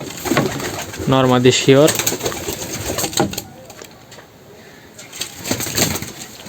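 Pigeons in a loft give deep throaty coos in short repeated bursts, close by, with some wing rustling as people talk over them.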